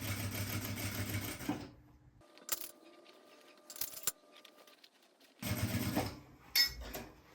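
A sewing machine stitches bias binding onto a fabric shoulder bag, running in two bursts of steady whirring with a quieter pause of small clicks and handling noises between them.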